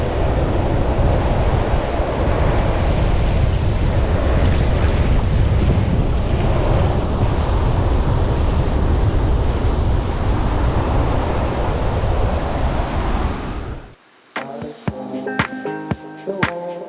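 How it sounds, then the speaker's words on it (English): Big ocean waves pound the beach at Toco, Trinidad, during Tropical Storm Bonnie, a loud continuous roar of surf with wind noise for about 14 seconds before it cuts off. "they have some big waves going on out there"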